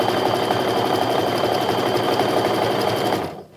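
A sewing machine runs a quarter-inch stitch across the top of a fabric wallet pocket, a steady, fairly loud continuous mechanical hum that cuts off abruptly near the end.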